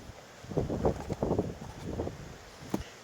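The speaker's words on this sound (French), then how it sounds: "Si là-haut ils veulent bien me calmer un petit peu le vent, ça serait pas mal." Outdoor wind gusts buffet the microphone in uneven, rumbling bursts for about two seconds, then ease off, with one brief sharp knock near the end; no one speaks.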